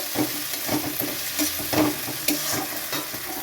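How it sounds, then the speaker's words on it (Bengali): Tomato goes into a pan of ginger, garlic and onion frying in oil, giving a steady close sizzle broken by rhythmic scraping stirs, with no voices. "আদা রসুন পেঁয়াজ ভালো করে লাল লাল করে ভেজে নিচ্ছি এবার টমেটোটা দিয়ে দেব"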